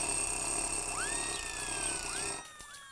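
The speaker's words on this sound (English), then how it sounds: "And that should be the timer for our pastry puffs." A kitchen timer goes off for pastry puffs while lobster Newburg is cooked, giving two rising electronic tones about a second apart over a steady kitchen hum that cuts out near the end.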